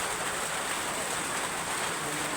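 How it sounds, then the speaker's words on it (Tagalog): Heavy rain pours steadily over a coconut grove, a dense, unbroken hiss that stays loud and even throughout with no voices. "Hindi na po makapag-video sa niyugan at sobrang ulan po. Yan. Lakas po ng ulan."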